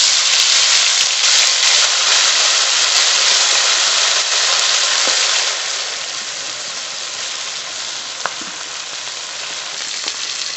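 Small tilapia fish coated in black cumin spice sizzle steadily in hot oil, a loud, dense frying hiss that eases slightly partway through, with no talking.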